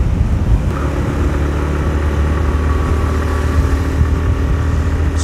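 A TVS Raider 125 motorcycle engine drones steadily and close, a continuous mid-pitched hum with wind noise, holding an even pace across the whole stretch.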